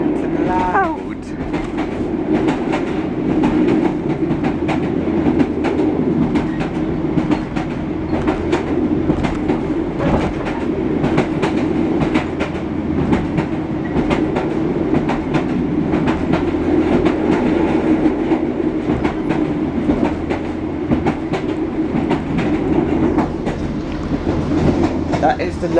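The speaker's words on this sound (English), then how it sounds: "Track noises are really prominent and loud." London Underground train running from Paddington toward West Ruislip, with loud, continuous track rumble and rapid clattering wheel clicks throughout, steady and close-up inside the carriage.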